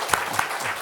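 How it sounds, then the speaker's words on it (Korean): A church congregation applauds after a full choir's hymn at a Sunday service: a brief, steady burst of clapping from a room full of people. "원래 주일날은 박수 안 치는데 그냥 기왕 치실 거 크게 좀 쳐주시죠"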